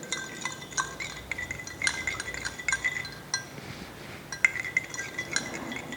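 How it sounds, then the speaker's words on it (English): A spoon stirring salt into water in a glass beaker: repeated light clinks and taps against the glass, bright and close, with a short quieter gap midway. "Then stir it nicely."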